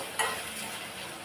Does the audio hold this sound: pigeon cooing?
no